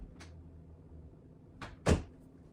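Door being opened at home to let a cat in: a quiet handle rattle and creak, then one sharp knock as the door shifts, heard alone with no talk.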